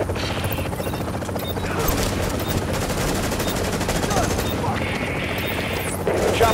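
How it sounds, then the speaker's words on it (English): A helicopter arrives in the video game The Division amid gunfire. Rotor noise throbs under repeated bursts of automatic fire and a few clanking impacts. "Chopper is inbound."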